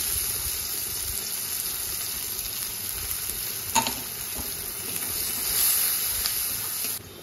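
Chopped onion frying in hot oil with cumin seeds for Bengali-style bhindi masala, a steady close sizzle and hiss with a brief stir or clatter in the middle and the frying swelling slightly toward the end.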